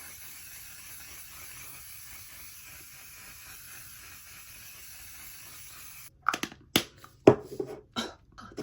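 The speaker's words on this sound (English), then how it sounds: "we're gonna do one last spray with the One Size Setting Mist" One Size setting mist is sprayed in several short, soft pump bursts in quick succession, close by, after a stretch of faint room hiss.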